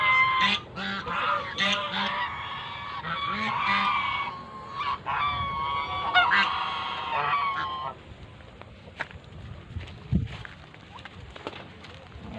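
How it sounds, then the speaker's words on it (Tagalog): Geese honk in a loose, overlapping chorus on a farm, loud and close at first, then fading out after about eight seconds so that only scattered faint sounds and a brief thump remain. "Mga gansa, oh."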